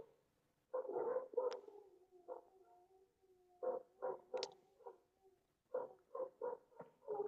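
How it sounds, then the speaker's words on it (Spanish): Dogs barking indoors, a run of short, sharp barks in three quick clusters with brief pauses between, fairly close but moderate in level. "perdón, se me están ladrando mis perros."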